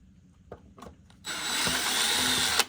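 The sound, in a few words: power drill removing tiny Phillips screws from scooter hub motor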